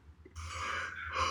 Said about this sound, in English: That's not me yawning, but that is definitely a yawn.